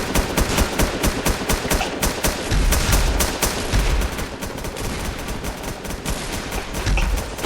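Rapid bursts of gunfire in a Roblox game, dense and loud, with fast repeated cracks running almost nonstop and a few heavier thumps mixed in.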